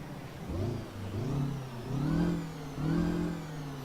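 A Scot A2HD truck's Detroit diesel engine in American Truck Simulator starts and revs in several rising and falling surges, a steady mid-pitched drone swelling and easing back, up close with no talk.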